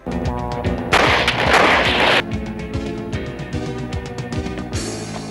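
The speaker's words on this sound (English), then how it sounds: "somebody finally figured out you could just shoot Jim Kelly and get it over with" Gunfire blasts from the 1982 action film One Down, Two to Go, booming over a dense music score, with a sustained loud burst in the middle and repeated hard impacts.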